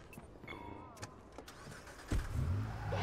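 A car in the Watch Dogs video game: scattered clicks and a thin whine give way to a sudden engine roar that keeps rumbling and revving to the end, fairly close.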